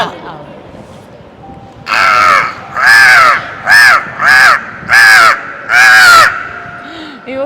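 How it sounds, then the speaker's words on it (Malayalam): A crow caws loudly and close by, six harsh calls in a quick, slightly uneven series after a brief quiet lead-in. "ഒരു കാക്ക കിടന്നു വാതോരാത വിളിച്ചാൽ"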